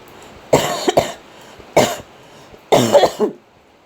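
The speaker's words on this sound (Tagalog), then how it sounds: "Inaatake po ako ng ubo" Three harsh coughing bursts, close and loud, separated by short pauses, the last one a double cough.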